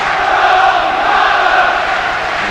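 Football crowd at Anfield's Kop during a 2001-02 Champions League match between Liverpool and Dynamo Kyiv, a loud, constant roar of applause and cheering from the packed stand, heard from a distance without a break.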